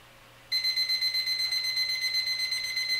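A timer alarm goes off after one minute during a smartphone cooler test, emitting rapid, evenly pulsed electronic beeps that begin abruptly after a quiet start and repeat steadily, loud and close, with no talking.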